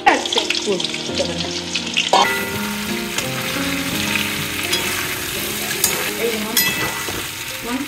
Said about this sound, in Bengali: পেঁয়াজ বেরেস্তা এটা মা পুরো পারফেক্ট করেছে, এতটা তেলে ভাজতে হবে।